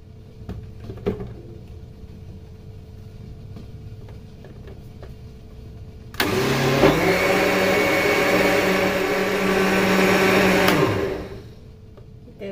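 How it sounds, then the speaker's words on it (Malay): A kitchen blender whirs loudly for about five seconds after a few quiet clicks and taps, then winds down and stops. "Okay, jom kita blender."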